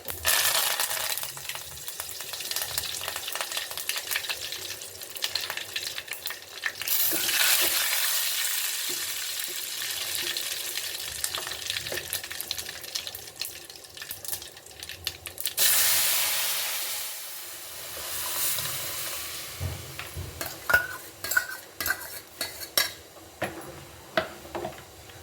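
Curry leaves and cumin seeds hit hot oil for sambar, bursting into a loud close sizzle and spatter that surges and fades, with a few clinks of a pan or spoon and no talking.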